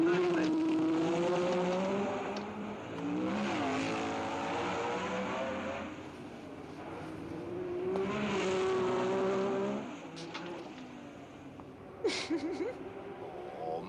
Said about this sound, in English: Stoddard can't quite squeeze his BRM past Sarti's Ferrari.